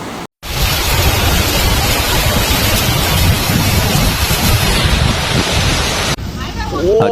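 A large hailstorm pours down as a dense, loud, continuous roar of hailstones hitting surfaces, steady for several seconds before stopping abruptly near the end.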